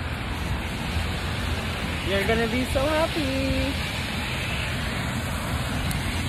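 Outdoor rain falls as a continuous broadband hiss throughout, with a person speaking briefly over it in the middle.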